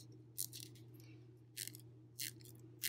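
Scissors snip through thin foil along a marked line, four short crisp bursts of cutting spaced apart over a low steady hum, close and quiet.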